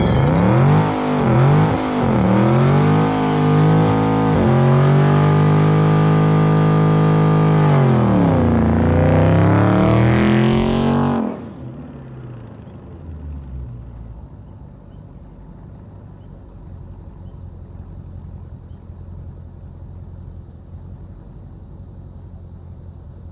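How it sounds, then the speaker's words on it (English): A Dodge Charger ScatPack's V8 roars through a burnout, rising and falling in hard, loud revs for about eleven seconds before cutting off to a low idle rumble and faint background noise. "All right, burnout time."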